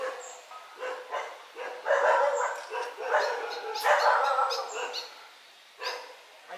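Dogs bark repeatedly at an old temple ruin in a residential neighborhood of Ayutthaya, Thailand, a run of sharp barks and yips at moderate distance, with a brief whimper amid the outbursts.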